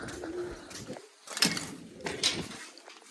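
Pigeons coo in soft, repeated throaty calls, close by and fairly clear. They come in several rounds with brief pauses between them over a light background.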